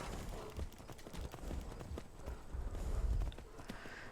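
Horse hooves clopping at a steady riding pace in the video game Skyrim, a soft, fairly quiet rhythmic patter layered over low game ambience.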